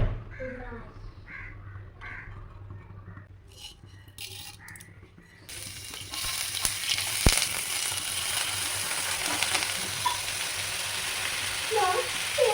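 Cabbage, grated coconut and carrot hitting a hot pan and frying: a sudden rise into a steady, crackling sizzle that continues close by. Crows caw and a voice talks faintly in the quieter background beforehand.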